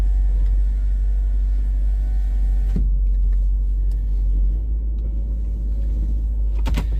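6.2 liter Hemi car engine rumbling at idle, a deep continuous low throb close by with faint clicks and small bumps over it.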